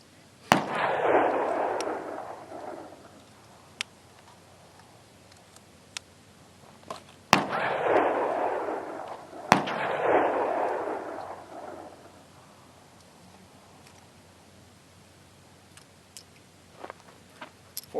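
Bolt-action rifle shots crack at an outdoor range, three sharp loud reports spaced several seconds apart, each trailing a long rolling echo, with faint clicks and handling noises between them.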